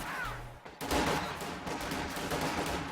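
Gunfire from the Company of Heroes 2 video game as grenadiers engage riflemen near a church, with dense, continuous rattling shots filling the whole stretch after a brief lull near the start.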